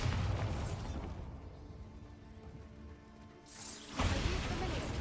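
A Bombarda spell blast in Hogwarts Legacy: a loud, broadband burst with rumbling low end opens the moment, fades into a quieter stretch with mechanical clicks, then a second heavy boom hits near the end.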